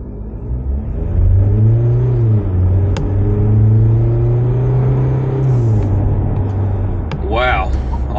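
A 2022 SsangYong Musso accelerating, heard from inside as a loud engine drone that climbs steadily in pitch, levels off, then shifts down as revs fall near the end, with a brief voice and faint cabin clicks toward the close.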